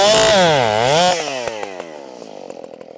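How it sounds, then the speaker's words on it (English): A Husqvarna chainsaw is heard up close, its engine revving hard with a wavering pitch before dropping into a choppy, sputtering idle, loud and alone. "today we're finally got some time to run the Husqvarna chainsaw"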